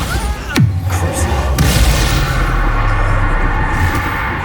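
A Bombarda spell detonates in Hogwarts Legacy, a loud deep boom with a sharp crack followed by a lingering rumble, then a second thud, over steady game ambience and a voice.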